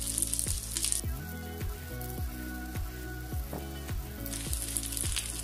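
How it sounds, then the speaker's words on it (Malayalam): Sliced onion sautés in oil for chicken dum biryani, a soft sizzle broken by a series of stirring scrapes and taps, with brighter crackle bursting at the start and end. "അപ്പൊ ഇതിലേക്ക് നമുക്ക് ഫസ്റ്റ് ഒണിയൻ സവാള ഇട്ട് കൊടുക്കാം"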